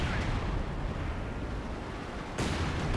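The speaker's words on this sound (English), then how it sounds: "We do got the light artillery coming on in" Light artillery fire in the strategy video game Company of Heroes 2, a dense rumbling roar of impacts and blasts with a fresh loud burst near the end.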